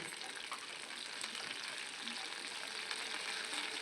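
Curry leaves and dried red chillies sizzling in hot oil in a kadai for tempering, a steady, faint crackling hiss with light popping throughout, close by.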